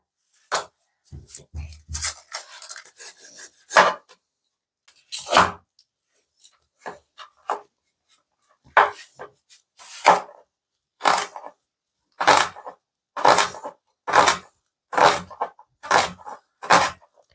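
An onion is sliced lengthwise on a board, a series of sharp knife knocks, irregular at first and then settling into a steady rhythm of close chopping strikes separated by brief quiet gaps.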